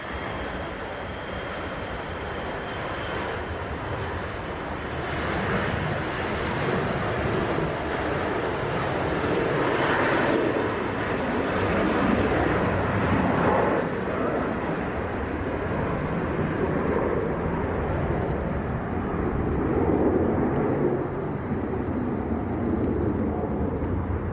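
A Jet2 airliner bound for Faro roars at Leeds Bradford Airport, its jet engines a loud, steady broadband rumble rising slightly over about twenty-four seconds, with wind buffeting the microphone.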